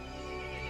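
A horse neighs in the Resident Evil Village video game, a loud, continuous whinny that fills the whole short moment with no talk over it.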